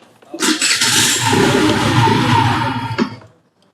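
A Kuba Space 50 Pro scooter engine catches quickly and runs in a loud, close, steady buzz for under three seconds, then cuts out abruptly when the side stand's safety sensor stops it.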